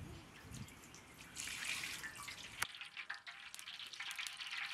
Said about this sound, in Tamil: முதல்ல சுத்தமான எண்ணெய் ஊத்திக்கலாம்.